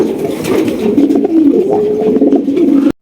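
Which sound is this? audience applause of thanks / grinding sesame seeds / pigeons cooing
pigeons cooing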